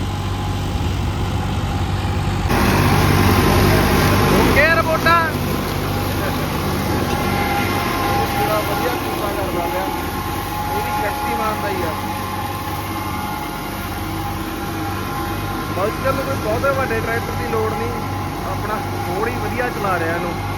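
A 5620 tractor runs at a steady, low diesel drone with a rotavator hitched behind it, outdoors on a farm, while voices talk over the engine.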